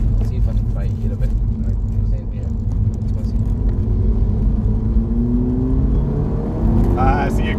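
A Stage 2 Mk5 Golf GTI accelerates hard in the rain, its engine droning loud and rising steadily in pitch from inside the cabin, with tyre and road noise beneath.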